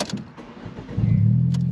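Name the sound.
manual stick-shift car being started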